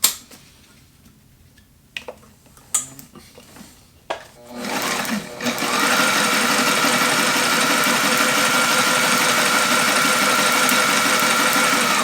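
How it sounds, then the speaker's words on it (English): Sailrite walking foot sewing machine stitching: a few sharp clicks and thumps, then from about five seconds a steady, loud, continuous mechanical whir and rapid needle chatter that runs unbroken to the end. "I'm going to sew it on the Sailrite first to see how it does"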